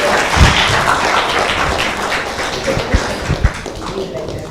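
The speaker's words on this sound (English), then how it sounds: "give a big round of applause to you" A festival audience at a Gita Jayanti celebration applauds in a loose, continuous patter, with a few heavier thumps near the end and voices mixed in underneath.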